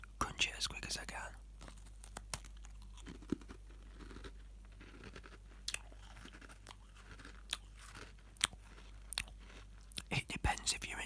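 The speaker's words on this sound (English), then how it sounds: "Sorry if you're not into loud chewing, guys." Close, crunchy chewing mixed with soft whispering, with irregular bites and crunches scattered throughout and a dense cluster of crunches near the end.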